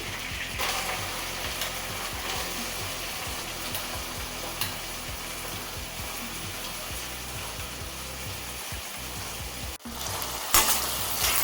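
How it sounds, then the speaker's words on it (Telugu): Masala onion and tomato paste frying and sizzling in a pan, a steady crackling hiss with occasional stirring scrapes and a brief splash of water near the end, no talking. "ఇలా మసాలా ఆనియన్ పేస్ట్ కూడా వేసి ఇది కూడా పచ్చివాసన పోయేంత వరకు వేగనివ్వాలండి"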